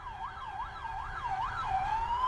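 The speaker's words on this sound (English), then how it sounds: "The sirens wailed, and the lights flashed" Police sirens wail up and down in repeated sweeping cycles, moderately loud over a low traffic rumble.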